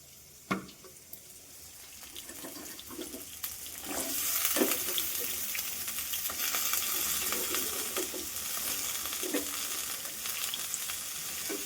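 Food sizzles steadily in a hot pan, the crackling growing louder and denser after a few seconds, with occasional clinks of stirring.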